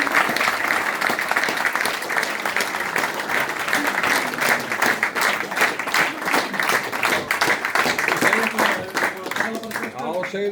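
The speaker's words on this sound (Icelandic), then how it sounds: "Gefum honum gott klapp." An audience at a beer event claps and cheers for a good cause, a sustained wash of applause with some raised voices and crowd noise mixed in, fairly loud throughout.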